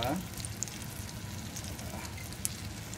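Banana fritters frying in hot oil, a soft steady bubbling sizzle with a few sharp pops and crackles, fairly quiet and close, with no talk.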